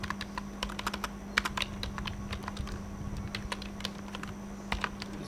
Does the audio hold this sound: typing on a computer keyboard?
yes